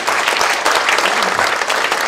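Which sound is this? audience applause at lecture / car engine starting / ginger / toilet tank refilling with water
audience applause at lecture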